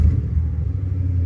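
A car engine running through exhaust collectors only, a loud, deep, steady rumble close by with a slight rise in revs, no talking.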